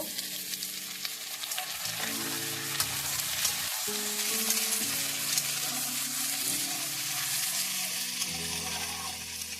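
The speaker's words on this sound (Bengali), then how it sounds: "এবারে আমি পাতলা করে আলু কেটে নিয়েছি, ঢেলে দেব" Thinly sliced potatoes fry with onions in a hot pan, a loud, steady sizzle with occasional stirring scrapes running throughout beneath gentle background music, with no speech.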